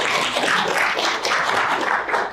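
Audience applause welcoming a guest speaker who has flown in from Vancouver for a business briefing, a steady dense wash of many hands clapping at close range, sustained and even throughout without any talk.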